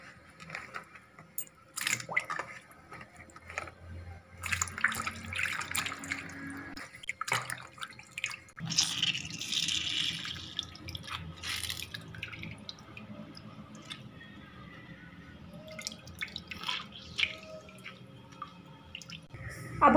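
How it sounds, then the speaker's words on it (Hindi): Water splashes and drips as bitter gourds are swished and lifted in a basin, with irregular sloshing and trickling close by throughout. "अब हम इन्हें साफ़ पानी में 2 दफ़ा निकाल लेंगे अच्छी तरह से"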